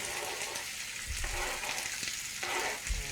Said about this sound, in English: We're just gonna put these right in with our butter and our oil.